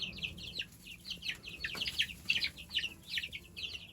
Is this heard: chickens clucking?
yes